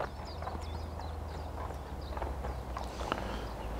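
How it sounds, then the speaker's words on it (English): A dressage stallion's hooves clip-clop in a steady, even rhythm on an arena surface, moderately close, with faint ambient noise and no talking. "when we give this horse 1 or 2 years, you will see a really outstanding model and top dressage horse from Totilas"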